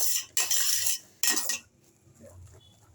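Egg rice stirred with a metal spoon in a pot, heard as two bursts of bright scraping and clinking followed by softer, quieter movement.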